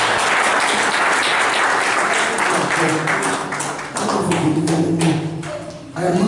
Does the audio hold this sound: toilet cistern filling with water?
no